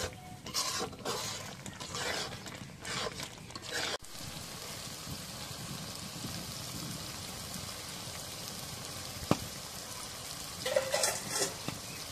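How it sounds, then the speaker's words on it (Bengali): Spice paste with turmeric and chili powder frying in a pan and being stirred, a soft, continuous sizzle broken by scraping strokes, quiet and close with no talking. "এখন মশলাটা কষানো হয়েছে"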